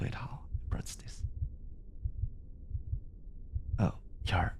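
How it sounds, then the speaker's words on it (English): A fast heartbeat thumps in quick, regular low pulses, close and soft, framed by breathy whispering at the start and end. "your heartbeat hasn't slowed down"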